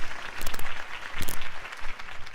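A crowd claps in the Batman Telltale game after Harvey Dent's campaign speech, a dense, continuous burst of applause with bright, overlapping hand claps throughout.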